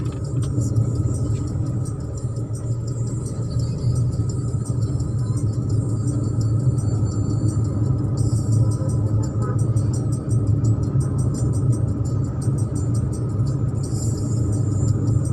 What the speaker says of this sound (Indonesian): Kenapa saya ini perjalanan 40 km per jam, nggak boleh ngebut karena di sini banyak sekali kendaraan roda 2 yang lalu lalang seenaknya.